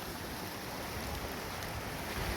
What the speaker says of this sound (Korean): 위에서 내려오는 물소리인데 잠깐 볼까요? 예, 지금 이렇게 물이 세게 내려오죠?